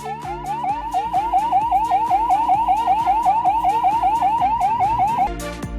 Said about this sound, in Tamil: வனத்துறையினர் சைரன் ஒலியை எழுப்பி யானையை விரட்டினர்